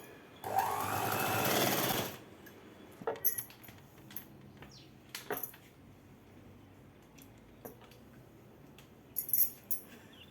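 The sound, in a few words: sewing machine stitching cloth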